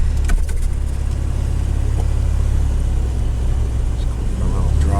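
A 1993 Toyota truck with a 22RE engine in need of a timing chain runs steadily and close by, a constant low rumble with no clear revving, while a person talks over it.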